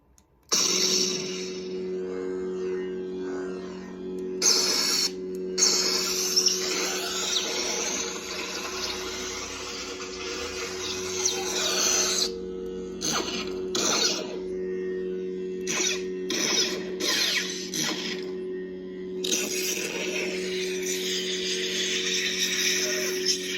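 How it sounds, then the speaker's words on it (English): Continuous buzzing hum with crackling, sputtering bursts that cut in and out irregularly, a sustained electrocution lightsaber lockup effect from a Warsabers Katarn saber, close and fairly loud. "Electrocution lockup, like in Obi-Wan in episode 2"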